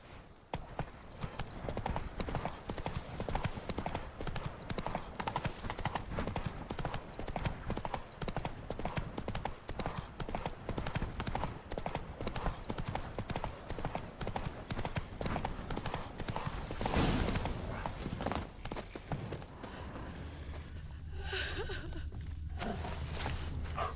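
Horse hooves clip-clop steadily in The Witcher 3 video game, a continuous close rhythmic walking beat under ambient game sound, with a brief louder burst near the end before it thins out.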